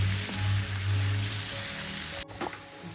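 Sliced onions fry in hot oil in a pan for an Indian egg masala, giving a steady, close crackling sizzle with a brief stir or disturbance near the end.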